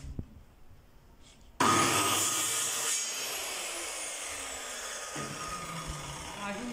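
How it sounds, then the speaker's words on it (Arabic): A circular saw starts abruptly and runs steadily through a wooden board, a loud whining buzz that holds on after a quiet start. "بعد كده اهو باخد المنشار وابدا اقص"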